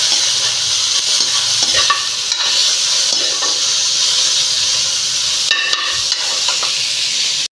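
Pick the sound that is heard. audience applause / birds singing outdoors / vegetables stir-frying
vegetables stir-frying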